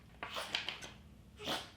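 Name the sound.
sneeze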